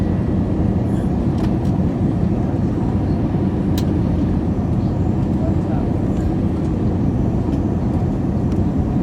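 Inside the cabin of a Delta Airbus A321 coming in to land at Miami, a loud steady low roar of engine and airflow noise fills the whole stretch, with faint brief clicks above it.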